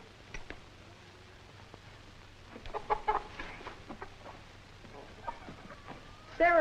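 Chickens clucking on a farm, a scatter of short, fairly faint clucks and calls over a low steady hum, with a louder call at the very end.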